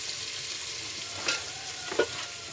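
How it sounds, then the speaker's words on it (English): Onions and tomatoes fry in a pan with a faint, continuous sizzle. Two soft knocks of a stirring utensil sound against the pan, and no one speaks. "After the onion have turned brown, add tomatoes. Mix well."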